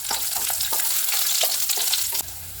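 Garlic, green chili and curry leaves sautéing in hot oil, a loud continuous sizzle with crackling pops and occasional spatula scrapes, close up.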